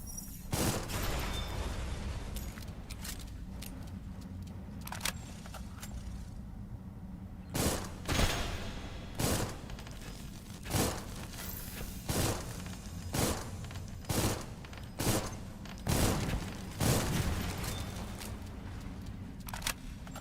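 Enemy gunfire in the mecha video game Armored Core, a string of sharp, punchy shots spaced about a second apart over a steady mechanical drone and rumble, with no voices.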